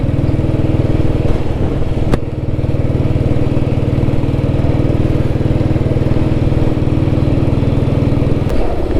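A vintage Royal Enfield Bullet motorcycle's single-cylinder engine running, a loud, even low thump close by that holds steady throughout with a couple of brief clicks.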